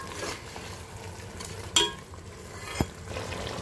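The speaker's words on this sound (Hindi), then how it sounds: "अच्छे से मिक्स करेंगे।" A spoon stirs a tahari rice mixture with salt and chutney in a pot, giving soft scraping and sizzling with two sharp clinks of metal against the pan.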